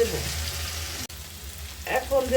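Spices are sautéed in a pan with chopped tomato and green chili, producing a steady sizzle with a brief drop and a stirring scrape near the end.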